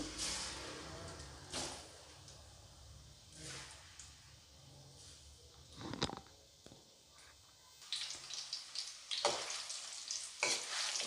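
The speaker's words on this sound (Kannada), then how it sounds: "ಮೊಟ್ಟೆನ ಸ್ವಲ್ಪ ಅಷ್ಟೇ ಎಣ್ಣೆಯಲ್ಲಿ ಕರಿಬೇಕಾಗುತ್ತೆ." Eggs fry in a little oil in a kadai over a gas flame, giving a quiet, steady sizzle broken by occasional sharp crackles and spatters, louder toward the end.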